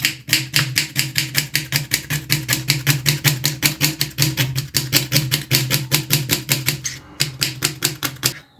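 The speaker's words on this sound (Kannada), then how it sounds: "ಈ ಥರ ಎಷ್ಟು ಸಣ್ಣಕ್ಕೆ ಹೆಚ್ಕೊಳ್ಬೇಕು" A knife chops quickly and finely on a board, cutting greens for fenugreek (methi) paratha in a fast, even rhythm of crisp close strikes that runs steadily and pauses briefly near the end.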